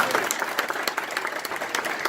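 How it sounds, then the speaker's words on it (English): Audience applause after an honoree calls for a round of applause at a social justice recognition event, a dense, steady wash of many hands clapping with a few sharper claps standing out. "Give yourselves a round of applause."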